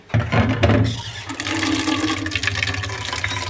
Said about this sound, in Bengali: হালকা একটু পানি দিব।